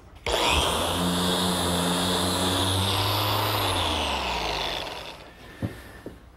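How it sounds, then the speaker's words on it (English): A power sander whines steadily against wooden dough box panels for several seconds, loud and close, then winds down and stops, followed by a couple of light knocks. "Now is a good time to sand my panels, particularly the inside,"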